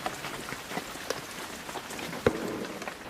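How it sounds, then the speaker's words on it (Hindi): Rain falling outside a library at night, a steady soft hiss with scattered drop taps and one sharper knock near the end, fairly quiet and without voices. "बारिश हो रही है बाहर"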